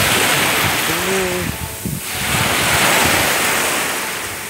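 Broadband wash of surf rolling in on a beach at Key West, swelling and easing, with wind buffeting the microphone and a brief voice-like murmur partway through.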